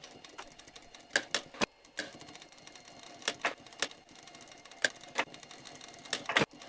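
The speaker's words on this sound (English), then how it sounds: "I just took all of my pieces and sewed them together until it was one big long chain." Sewing machine stitching denim strap pieces from old jeans together into a long chain, close-up bursts of rapid mechanical clatter separated by short pauses and sharp clicks.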